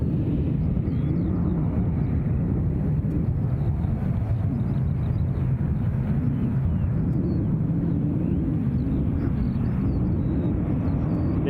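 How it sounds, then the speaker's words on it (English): A light aircraft arriving at Glasgow International Airport, its steady engine drone heard from a distance as a constant low roar mixed with wind over the whole stretch. "another speedy light aircraft arrival"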